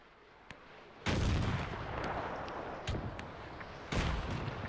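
Booming artillery fire in the WW1 strategy game Between Empires: a faint early thud, then two heavy, loud blasts a few seconds apart, each trailing into rumbling echo.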